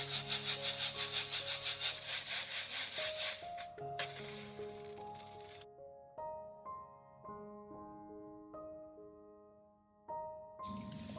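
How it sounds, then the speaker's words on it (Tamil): Black gram (urad dal) being split in a hand-turned stone grinder gives a steady, rhythmic gritty rubbing for about four seconds, followed by a quieter stretch with a few tonal notes. "திரும்ப ஒரு முறை ஆரிக்கல்ல போட்டு இதை உடைச்சிக்கலாம்."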